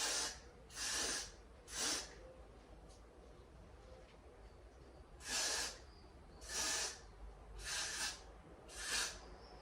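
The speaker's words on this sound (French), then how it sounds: "Je vais prendre ma Got2b là en spray et je vais simplement mettre ça devant" A Got2b hair spray can releases about seven short hissing bursts, some in quick pairs, with brief pauses between them, close by over a quiet room.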